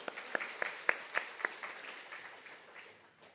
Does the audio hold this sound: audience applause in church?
yes